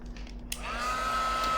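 A hair dryer switches on to dry a mixed media art journal page, starting after a brief click and settling into a steady, close whirring hum.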